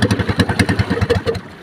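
A fishing boat engine runs close by with a steady, rough chugging, rhythmic pulses about every fifth of a second before it eases off near the end, with no talking.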